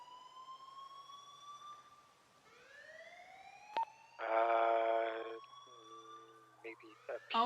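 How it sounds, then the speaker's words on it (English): A police siren wails in the Red Dead roleplay video game, long rising and falling tones at moderate level, broken by a short burst of noisy chatter and a few clipped sounds toward the end. "I heard sirens"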